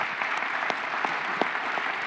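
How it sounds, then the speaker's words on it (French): An audience at a French conference on climate science applauds steadily, with dense, even clapping from a full room, continuous and fairly loud throughout. "merci d'applaudir le philosophe allemand Peter Sloterdijk"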